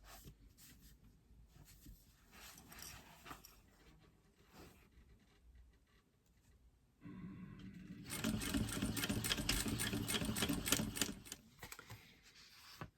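Sewing machine topstitching a canvas tote bag seam with a lengthened stitch, a dense steady whir building in loudness after softer, intermittent handling noises at the start.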